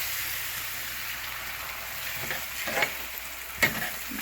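A spoon stirs chicken Manchurian sauce thickened with corn flour paste in a pan: a soft steady sizzle and hiss throughout, broken by a few light scraping clinks near the end, with no talking.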